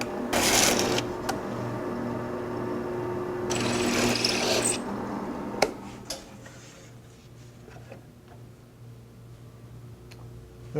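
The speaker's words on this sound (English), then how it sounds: "Now it's just a case of switching on and drilling." A power drill boring shelf pin holes through a guide into cabinet wood, with bursts of whirring drilling and clicks separated by pauses, moderately loud and nearby.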